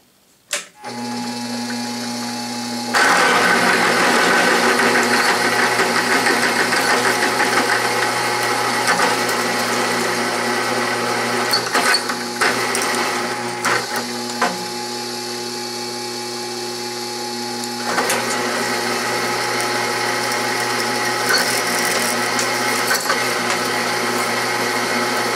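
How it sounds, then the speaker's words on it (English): A slow-speed DC motor drill with a half-inch bit bores a hole at unchanged RPM, giving a steady mechanical whine and hum. It grows louder after a few seconds and holds, with slight shifts in level. "Okay, I'm going to stop and drill a half inch hole."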